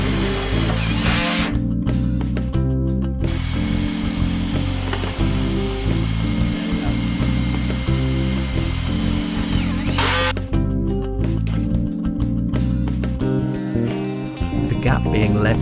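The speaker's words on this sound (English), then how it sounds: "The wall sections are fitted to the base using self-drilling bolts." Power drill driving self-drilling bolts to fix conservatory wall sections onto the base, sustained whirring runs with pauses and restarts, loud and near, with a voice talking over it throughout.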